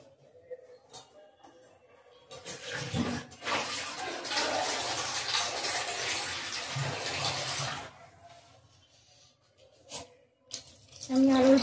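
Broth is poured into an egg curry in a steady, splashing stream that lasts several seconds, with quieter clatter before and after and brief speech at the edges.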